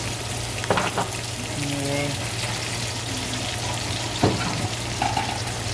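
Garlic and onions fry in a pan with a continuous close sizzle under a low steady hum, broken by a few utensil clinks and scrapes.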